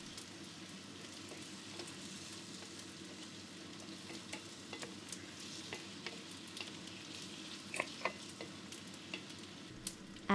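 Phở noodles tossed in a pan with oyster sauce, bouillon and fish sauce, crisp-frying with a continuous soft sizzle and scattered light utensil scrapes and clicks, fairly quiet and without speech.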